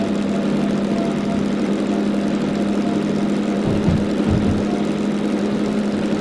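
Diesel locomotive engine from the Derail Valley game running steadily, a loud, constant low idle drone with a slight rumbling dip midway and no talk.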